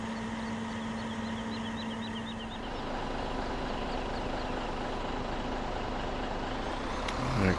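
A truck engine in Farming Simulator 17, a steady loud drone at a constant pitch that rises slightly toward the end, with no talking.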